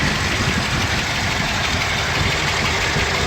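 A restored 1957 Ford Thunderbird engine runs at a steady idle, a constant near, even rumble with a broad hiss and no pauses or talk.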